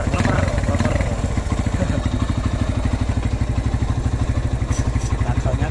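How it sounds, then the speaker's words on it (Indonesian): A 1997 Honda GL Pro Neotech motorcycle with its original exhaust runs steadily close by, a loud, even, rapid mechanical beat throbbing without pause from start to finish. "Yang jelas mesinnya garing banget ini."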